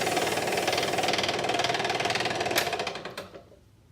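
A Framon code machine buzzes steadily as it deburrs a freshly cut key, a dense mechanical whir close by that winds down and stops near the end.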